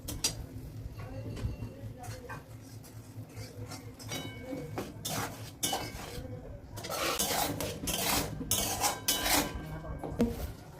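Ginger, garlic, onion and chili paste stirred in a pan with bay leaf and lightly fried katla fish, heard as metal utensils scraping and clinking against the pan in bursts that grow busier toward the end.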